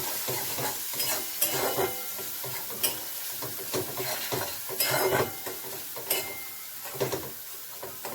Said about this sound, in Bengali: এটা একটু কষবে।